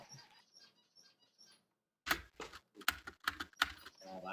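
Loud mechanical computer keyboard typing comes in fast bursts of sharp clicks after a quieter stretch of faint tapping, close to the microphone.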